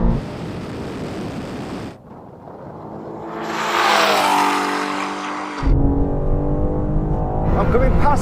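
Bugatti Chiron Super Sport racing 1,000-horsepower BMW M4 and M5 in a drag race: loud engine roar that drops away, then a rising high-revving acceleration surge and another burst of engine noise, with voices talking over parts of it.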